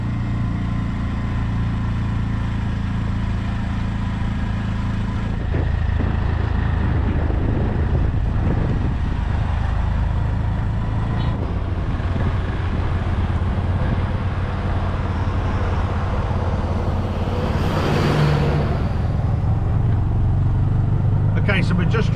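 Tuk-tuk motor drones steadily while riding along a road in Sri Lanka, heavy wind buffeting the microphone and a louder surge of engine and road noise building midway, with voices talking over it.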